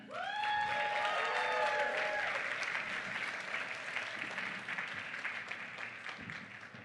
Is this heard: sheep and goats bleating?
no